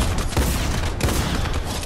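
Rapid bursts of video-game gunfire crackle continuously for about two seconds, loud and dense, with a couple of sharper shots standing out from the barrage.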